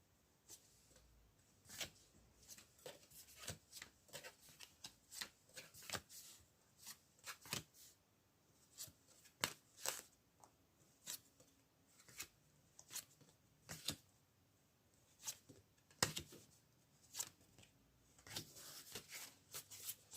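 Tarot cards are shuffled close by in soft, irregular bursts of riffling and slapping that repeat steadily and quietly throughout.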